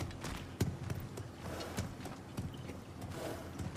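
Horse hooves clopping in God of War Ragnarok, a quiet rhythmic run of hoof strikes with no clear neigh, with faint talk underneath.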